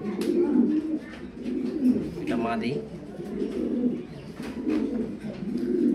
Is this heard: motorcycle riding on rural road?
no